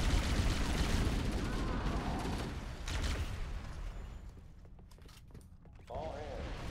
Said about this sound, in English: You're getting shot at. Lots of booms.